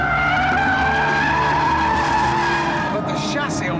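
An Aston Martin V8 Vantage roadster howls around a corner, its tires skidding and squealing in a loud, sustained screech over the engine roar, close and continuous.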